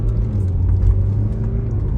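A BMW F30 320d diesel sedan with a heavy-damage record accelerates, its engine giving a steady, loud, low rumble for about two seconds.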